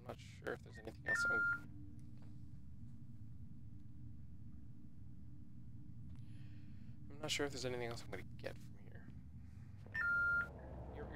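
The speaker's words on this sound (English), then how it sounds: "Your phone is beeping at me." Two short electronic phone beep bursts, one early and one near the end, ring out over a low background rumble while a person talks in between.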